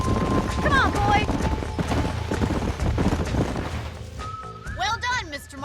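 Horse hooves clip-clop in the Red Dead Redemption video game, a steady rhythmic gait running under game music and voices talking throughout.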